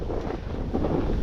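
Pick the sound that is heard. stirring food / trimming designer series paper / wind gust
wind gust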